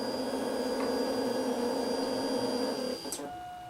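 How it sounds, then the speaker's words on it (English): A Triumph Tiger motorcycle's petrol pump whirs steadily after the ignition is switched on, a close mechanical drone that drops abruptly near the end as priming finishes, leaving a faint high tone. "I'll show you how quickly that should initiate the petrol pump and everything else"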